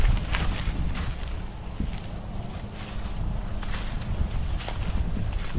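Strong wind roars and buffets against the microphone outdoors on a lawn with tall grass and broken limbs, a constant loud rumble with gusty swells.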